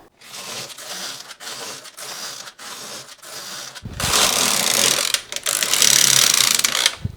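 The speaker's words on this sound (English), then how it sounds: "now you take your waste yarn and you just knit a few rows over here" A knitting machine carriage clacks back and forth across rows of waste yarn in rhythmic mechanical passes, separated by short pauses, then grows louder and rougher in a final longer sweep.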